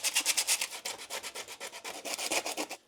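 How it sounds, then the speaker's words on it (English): Sandpaper rubbing across a rusty brake drum in quick, even back-and-forth strokes, about a dozen close, raspy passes with no talking. "Sandpaper."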